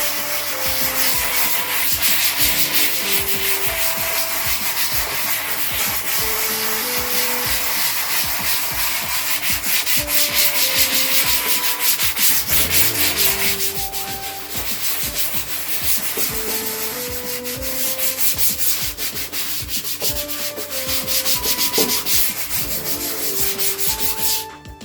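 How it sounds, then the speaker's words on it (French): A brush scrubbing a car's rear parcel shelf in short, rapid strokes, a close, dense rasping rub that runs continuously and rhythmically without talk. "Toujours des petits coups pour la brosse."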